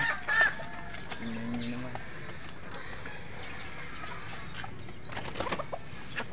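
Chickens cluck and murmur nearby as they are handled, with soft fowl calls scattered through a steady farmyard background and a brief spoken phrase at the start.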